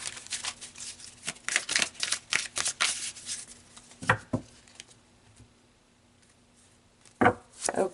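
Tarot cards are shuffled close up in repeated riffling bursts with crisp slaps and brief pauses, a final quick shuffle near the end, no talk.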